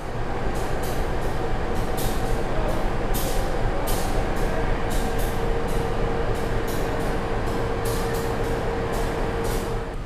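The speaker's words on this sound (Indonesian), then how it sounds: "calon lokomotif dari kereta api Mataram dari stasiun Pasar Senen menuju ke stasiun Solo Balapan dan akan segera dirangkai dengan rangkaiannya" A CC206 diesel locomotive for the Mataram train at Pasar Senen station, Jakarta, idling loudly and steadily up close with a broad rumbling drone and a sustained tone, plus repeated short hiss-like bursts throughout.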